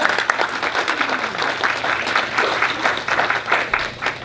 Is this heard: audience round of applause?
yes